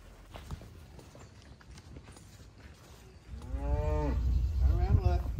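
Cattle moo loudly, with two drawn-out calls close by, while the cows and calves move around a corral with hoof clatter and shuffling in the background.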